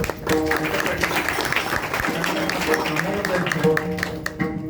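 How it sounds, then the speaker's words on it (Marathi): Applause and clapping from the audience at a kirtan, a dense sustained patter filling the hall, with voices talking and some tonal sound underneath. "एकदम जोरदार टाळ्या करा."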